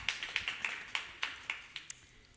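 A few people clap sparsely at the start of a final session, with roughly eight distinct, fairly faint claps at an uneven rhythm in a quiet room.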